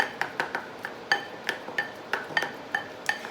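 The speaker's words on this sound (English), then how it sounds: "I can just go ahead and chop this up like so" A handheld food chopper with a thumb guard is pressed down repeatedly on vegetables for guacamole in a home kitchen, giving about a dozen sharp, close clacking chops in a fairly steady rhythm, with no talking.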